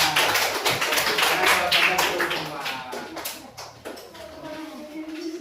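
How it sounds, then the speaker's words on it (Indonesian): A school class claps hands together in a classroom, a dense burst of quick overlapping claps that is loud at first and then thins and fades, with voices faintly mixed in. "Tepuk tangan untuk kita semua."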